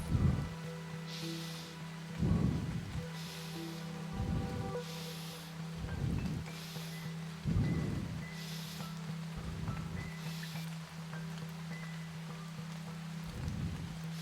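Soft, steady rain falls throughout, with a low hum beneath and regular muffled thumps recurring every couple of seconds.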